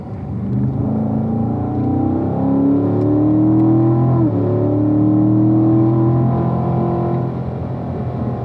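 A race car engine on a track drones loudly and close, its pitch climbing steadily as it accelerates, easing briefly midway, then rising again before settling.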